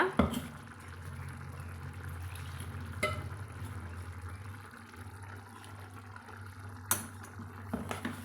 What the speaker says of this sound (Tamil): இப்போது நம்மளுக்கு நல்லா கொதித்து வந்துருச்சுங்க